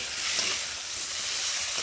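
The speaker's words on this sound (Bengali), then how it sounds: "এই ফোড়নের সঙ্গে করলাগুলোকে বেশ ভালোভাবে ভেজে নেব।" Bitter gourd frying in tempered oil, a loud, dense, continuous sizzle and hiss, close up and steady throughout the short moment.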